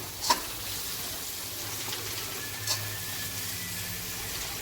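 Vegetables and spice paste for shukto are stirred together in a pan, giving a low steady frying hiss with a couple of faint spoon taps.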